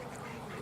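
Ducks quack briefly at a lakeside on Coniston Water where people are feeding ducks and seagulls, a short, moderately faint burst over steady outdoor background noise with no talking.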